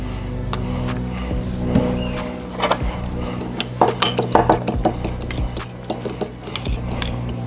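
A utensil clinks and scrapes against a bowl as burger sauce with mustard is stirred, irregular clatters rising in the middle over a steady low room hum.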